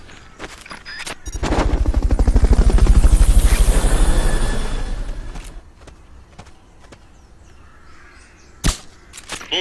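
A helicopter in Metal Gear Solid: Peace Walker swells in loudly with a rapid rotor chop for a few seconds, then fades away, followed by scattered game effects and a sharp impact near the end.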